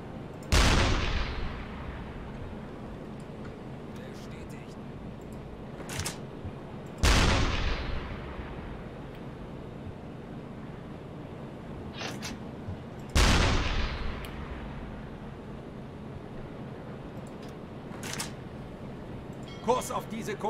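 Heavy naval guns from an enemy destroyer firing at a U-boat in UBOAT, three loud booming blasts spaced several seconds apart, each trailing off into a long rumble over steady background noise.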